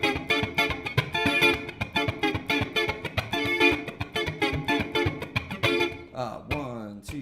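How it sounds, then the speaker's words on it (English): Funk strumming on an electric guitar through AmpliTube amp modelling, tight choppy muted rhythm with steady sharp accents, loud and close, ending in a brief sliding flourish. "when you put it all together, it sounds like this"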